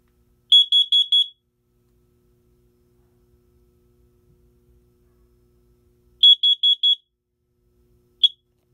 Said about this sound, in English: next, we're going to set off the CO detector